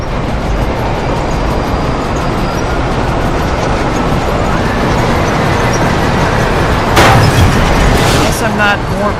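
A subway train in the Spider-Man 3 video game on PS3 straining to pull a plate loose, a loud continuous rumbling roar of rail noise with a heavy clanking burst near the end.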